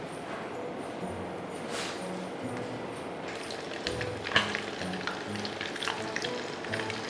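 Food frying in hot oil gives a soft, continuous sizzle and crackle throughout, fairly faint, with occasional clinks and a few louder pops midway.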